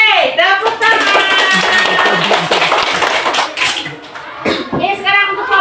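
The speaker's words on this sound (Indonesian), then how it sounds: "Yeay, tepuk tangan." A class of fifth-grade primary schoolchildren claps hands together in a steady burst of taps, mixed with children's cheering voices and chatter in a classroom.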